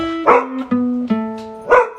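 A dog barks several times indoors, loud close yips and woofs spaced irregularly, with a sustained tonal whine between barks.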